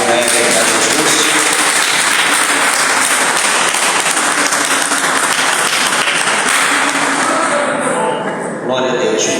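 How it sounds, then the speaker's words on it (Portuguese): A church congregation applauds loudly and continuously, a dense wash of many hands clapping in a reverberant room that holds steady before easing slightly near the end. "Quem pode dar uma salva de palmas para Jesus?"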